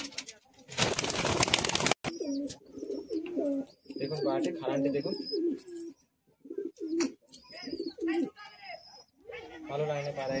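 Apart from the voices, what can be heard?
pigeons cooing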